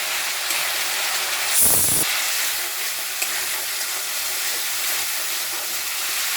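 Spice masala frying in a pan, a loud, steady close-up sizzle with a short sharper flare of spitting partway through, no voices.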